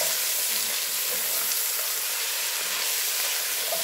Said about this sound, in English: you're going to stir that together.